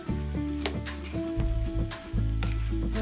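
Pineapple fried rice with soy sauce sizzles loudly in a hot pan while being stirred, with dull scraping knocks from the stirring breaking into the constant frying hiss; no one speaks.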